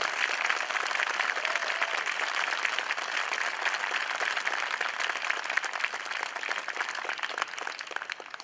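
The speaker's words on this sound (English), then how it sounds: "let's give these students a huge round of applause" An audience at an 8th grade graduation ceremony applauds the graduating students with steady, full crowd clapping for about eight seconds, tapering slightly at the end.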